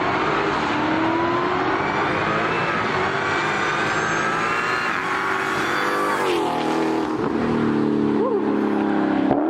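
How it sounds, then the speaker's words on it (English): A Dodge Demon's supercharger gives off a loud, continuous high whine over a roaring engine, rising and shifting in pitch as the car accelerates nearby, with bright tonal sweeps near the end. "Dodge Demon supercharger whine."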